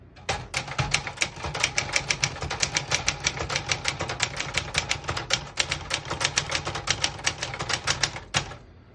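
A 1968 Remington 666 all-metal portable typewriter being typed on: a fast, steady run of crisp key strikes, several per second, close and fairly quiet, with a final louder clack before it stops and no talk.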